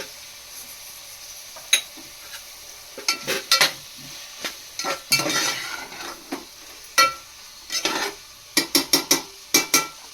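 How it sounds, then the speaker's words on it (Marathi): Tomatoes with salt are sautéed in a pan, with a soft background sizzle broken by irregular clattering spoon scrapes and knocks against the pan, clustering into quick bursts toward the end. "टॅमॅटो चांगला परतून मीठ टाकलं त्याच्यामध्ये"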